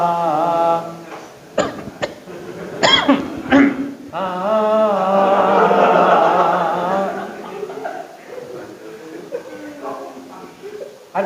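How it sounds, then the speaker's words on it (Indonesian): Several throaty coughs and throat clearings break into a sung call to prayer, the voice holding long melodic notes between the coughing bursts, close and fairly clear. "Azannya diselingi batuk."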